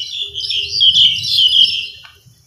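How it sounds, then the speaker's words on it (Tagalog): Many birds chirp and tweet outdoors during a dog walk, a dense overlapping chorus of high calls close by, with a low rumble of movement underneath. "Daming ibon"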